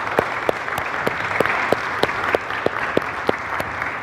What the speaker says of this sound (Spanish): Dale el aplauso a Jesucristo.